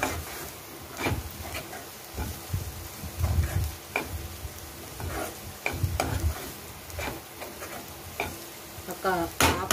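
Spices sizzle in a cooking pan while a spoon stirs them, giving repeated scraping clinks and rattles over a low, continuous frying hiss. The sound stays close and moderately loud, and a faint background voice is heard at times.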